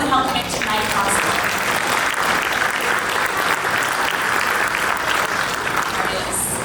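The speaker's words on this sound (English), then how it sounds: "Big round of applause for all the sponsors, our award designer, everyone that helped make tonight possible." A large crowd at a business awards evening gives sustained, loud, dense applause for sponsors and helpers, steady throughout with no letup.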